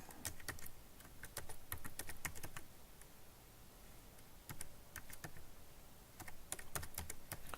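Fast typing on a computer keyboard during a Gentoo Linux kernel upgrade, with bursts of close key clicks separated by short pauses over a faint background hum.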